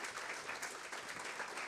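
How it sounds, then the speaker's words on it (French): Steady applause from an audience for the participants of a round-table debate, a continuous even wash of clapping, fairly faint and distant. "On peut applaudir en tout cas nos participants à cette table ronde."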